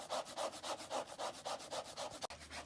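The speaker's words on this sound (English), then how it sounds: "lemons I'm going to grate the rind and put in my freezer" Lemon rind is grated in quick, steady back-and-forth strokes, about four per second, with a near, scratchy rasp. A single sharp tap cuts in near the end, and no one speaks.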